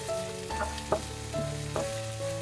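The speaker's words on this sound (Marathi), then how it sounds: "आता टमाटर घालून घेते, थोडं परतून घ्यायचं" For misal pav, tomatoes sauté with onion, ginger and garlic in a pan. A steady close sizzle carries a faint tonal hum, punctuated by a few sharp stirring knocks, and there is no talking.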